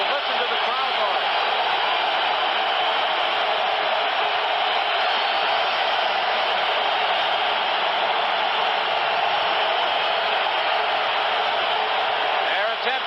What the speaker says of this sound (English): listen to the crowd noise